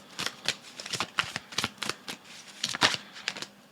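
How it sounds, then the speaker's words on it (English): Cards being shuffled by hand for a card reading, close crisp riffling and flicking bursts in an irregular rhythm, with no voice. "So I'm going to just carry on shuffling and hopefully we can get a couple of star cards."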